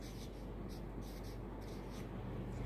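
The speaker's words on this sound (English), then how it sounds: "First, write LHS and RHS." A pen writes LHS and RHS for a chemical equation, producing a faint, continuous scratching of short strokes on paper, very quiet and close.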